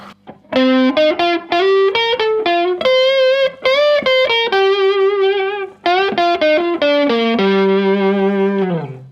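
A distorted electric guitar, a Gibson Les Paul Traditional with its bridge pickup tone rolled back, plays a melodic lead line, notes and short runs with sustained tones, and the tone is darker and less bright.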